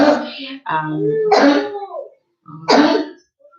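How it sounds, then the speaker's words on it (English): A few sharp, loud coughs in quick succession, close by, with a short pause before a final cough. "A cough is a cough."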